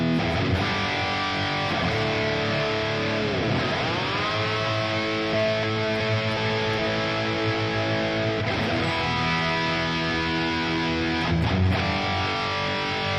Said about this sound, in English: there's like a chorus flange built into this reverb.